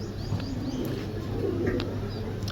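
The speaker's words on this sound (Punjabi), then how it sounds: "ਘਮੱਗਰ ਕਬੂਤਰ ਆ ਜੀ।" A Ghamaggar pigeon cooing softly, low repeated coos sitting faint under steady background hum.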